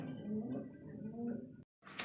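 Racing pigeons coo in low, throaty bursts, close and moderately quiet, followed by a short gap and then a brief rustle at the end.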